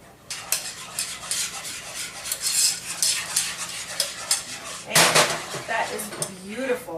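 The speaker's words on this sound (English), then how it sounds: "We've had these chocolate chips sitting in that heavy cream, and now I'm just going to whisk it, stirring lightly at the beginning." Whisk stirring chocolate chips into heavy cream in a bowl, a close, rapid clatter and scrape of metal against the bowl, louder and busier toward the end.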